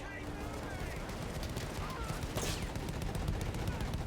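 Rapid machine gun fire in the video game Battlefield 1, a dense rattle of shots with distant booms under a constant battle din, fairly faint, with voices talking over it.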